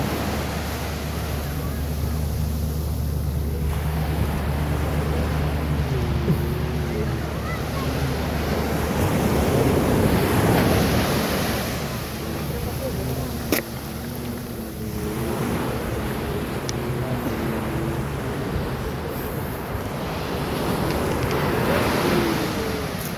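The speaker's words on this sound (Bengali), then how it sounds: "আপনার কানে লাগে অনেক অনেক সাগরের ঢেউর সাউন্ডটা আসলে অসাধারণ" Sea surf rolls and washes onto a beach at sunset, a continuous loud roar that swells and eases in broad waves, mixed with gusty wind buffeting the microphone.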